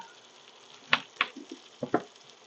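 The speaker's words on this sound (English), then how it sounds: "let them saute in that fat from the bacon" Apple slices hit bacon fat in a cast-iron cornbread skillet and sauté with a faint background sizzle. A handful of short, crackling bursts and pops stand out, spaced irregularly.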